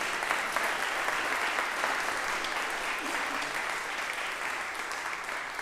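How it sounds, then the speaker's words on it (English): Audience applause at a community band swing concert in a church, a full, sustained patter of many hands clapping evenly for several seconds in a reverberant hall. "How about a small round of applause to show how much we appreciate their mental and physical demands."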